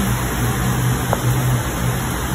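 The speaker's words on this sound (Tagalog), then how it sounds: "Lakas ng ulan." A steady wash of heavy rain fills the background, broad and constant, with a low hum underneath and no voices.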